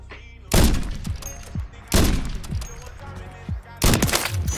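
Three loud, booming sniper rifle shots from an Intervention in a video game ring out at spaced intervals, each with a sharp crack and a rolling echo tail, while players talk faintly underneath.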